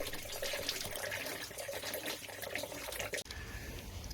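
Water rushes steadily through a Triumph Stag's cooling system during a reverse flush, a constant hissing gush like a running hose, close and fairly loud, dropping briefly near the end before flowing on.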